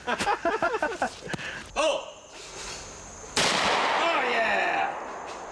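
Gunshots ring out during a rabbit hunt: a sharp report followed by a louder, sustained blast a few seconds later, with people talking and cheering around them.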